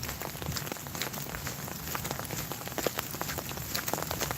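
Rain falls steadily outdoors during a walk down a hill, a fine continuous patter of drops on surfaces around, close and even with scattered louder splats and no talking.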